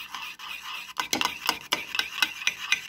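Peanut butter being stirred into a cup while making wholegrain porridge, giving a run of soft scraping, rubbing strokes that repeat in a steady rhythm, close and fairly quiet.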